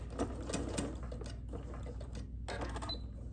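Sewing machine back tacking on a blanket, running in short busy bursts of close, rapid stitching with brief pauses in between.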